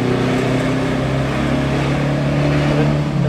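Alfa Romeo GTV engine droning steadily up close with a heel-and-toe throttle blip on the downshift, a continuous loud mechanical hum without talk.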